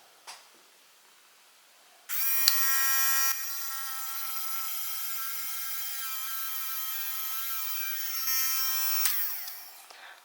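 A Light Dash mini 4WD motor spins during break-in with a high, thin electric whine. It starts suddenly, holds steady with slight wavering for about seven seconds, then winds down. No one speaks.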